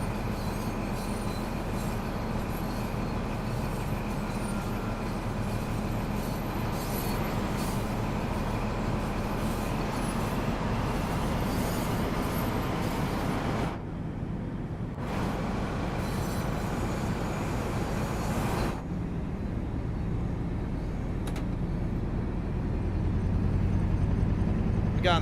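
An HST train runs steadily on the Midland Mainline in Train Sim World 3, a continuous rumble of wheels and rail noise with occasional squeal, loud and close throughout, with no talking.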